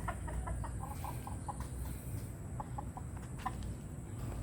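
A Bulik gamecock rooster gives a run of soft, repeated clucks, fairly faint, over a steady background hum.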